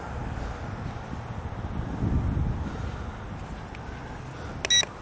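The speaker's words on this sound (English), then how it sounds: "It's very windy today." Strong outdoor wind buffets a microphone with low, rumbling gusts that swell and fade, peaking midway, before a few short electronic beeps at the end.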